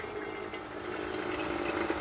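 Water pours steadily from a tap into a collapsible coffee pot at an overlanding camp setup, a continuous close rushing fill lasting the whole moment with no talk.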